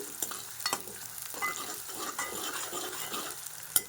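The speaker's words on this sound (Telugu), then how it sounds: "ఆనియన్స్ అయితే బాగా వేగాలండి" Onions with curry leaves frying in hot oil, a close crackling sizzle with quick stirring scrapes and a sharp clink of the utensil near the end.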